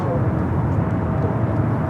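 A Boeing 787-9 Dreamliner taking off at Los Angeles airport: a loud, continuous low jet-engine roar, with a voice talking over it.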